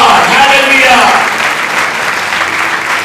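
Loud applause from a church congregation at a Christian service, a dense, steady roar of clapping filling the room throughout, with voices mixed in beneath it.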